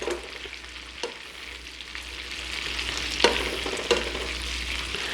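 Shrimp frying in garlic butter give a steady, moderate sizzle in the pan, broken by a few sharp clicks and scrapes as the pieces are turned over one by one.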